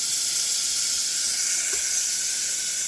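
Butter melting in a pan for a caramel apple cake gives off a steady, close sizzling hiss that holds even and unbroken throughout, with no voices.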